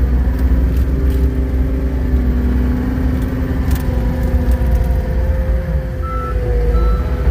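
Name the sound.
small truck driving around through water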